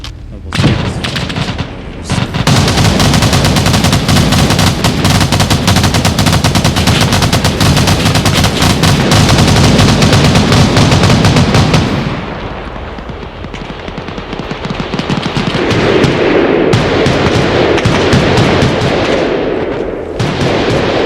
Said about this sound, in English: Oh my goodness, the RPGs are scary. Fire with the rockets.